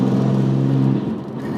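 A BMW M4 Convertible engine holds a steady low hum at around 2,500 RPM for a moment, fairly close and even, softening slightly near the end with no voices.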